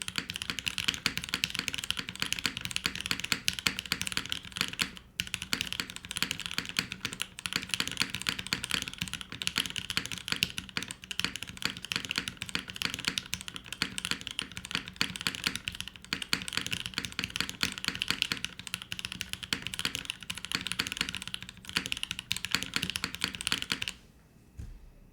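Rapid, continuous clacking of keys on a top-mount tenkeyless mechanical keyboard, close and steady for a long stretch before stopping abruptly at the end.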